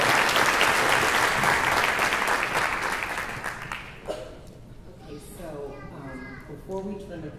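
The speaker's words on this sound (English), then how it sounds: "Please join us in the applause of the directors." An audience at a summer strings youth concert claps for the directors, the dense applause strong at first, then thinning out and fading as scattered young voices and chatter take over near the end.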